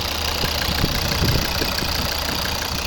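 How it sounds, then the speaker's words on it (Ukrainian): The 2.0 D3 diesel engine of a 2011 Volvo V50 idles close by with a steady rumbling knock and slight vibration, unchanged throughout, no voices. "Ось робота, класна робота двигуна"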